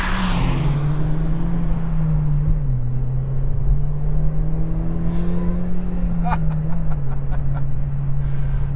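A 2013 Hyundai Genesis Coupe 2.0T engine drones steadily at close range while accelerating, pitch wavering slightly as it pulls, with a faint voice under the engine noise.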